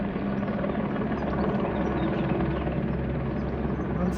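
A fire rescue helicopter in Portugal flying, a loud continuous rotor thump and engine drone that holds steady throughout with no talk.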